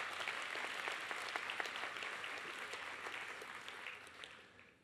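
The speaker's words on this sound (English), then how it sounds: "So I think we should give them a round of applause" Audience applause at a Bearspaw Christian School 2019 graduation convocation, following singers' performance: steady, dense clapping from a crowd in a hall, sustained throughout at moderate distance, gradually easing toward the end.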